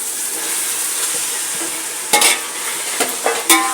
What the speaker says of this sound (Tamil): இந்த ஸ்டேஜில் நம்ம தக்காளி போட்டுக்கலாம்.